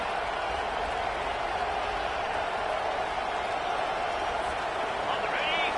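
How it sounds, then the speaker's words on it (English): Football stadium crowd roaring in a steady, dense wash of cheering and noise early in a game, loud and continuous throughout with a faint whistle-like tone near the end. "This crowd bringing the energy and noise early."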